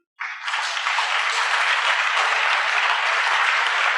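A church congregation breaks into sudden, sustained applause, a dense, even roar of many hands clapping that starts abruptly and holds steady.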